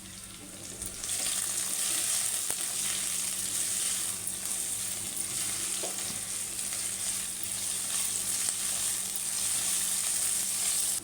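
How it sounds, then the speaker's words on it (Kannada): Mustard seeds, urad dal and onion frying in hot oil: a steady, close, hissing sizzle runs throughout with occasional faint stirring clicks, no talk. "ಸಾಸಿವೆ ಉದ್ದಿನಬೇಳೆ ಎಣ್ಣೆ ಹಾಗೂ ಉಳ್ಳಾಗಡ್ಡಿಯನ್ನು ಚೆನ್ನಾಗಿ ಫ್ರೈ ಮಾಡ್ಕೊಳ್ಳಿ"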